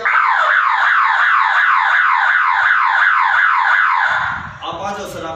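Fire alarm siren system on a building floor being tested, a loud, close rising-and-falling electronic wail repeating for several seconds, then cutting off as voices and shuffling follow.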